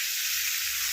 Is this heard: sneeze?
no